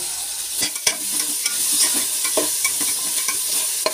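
Soup ingredients of onion, garlic and lemongrass being stirred in a frying pot with salt added, a steady close sizzle broken by repeated scraping strokes of a spoon against the pot.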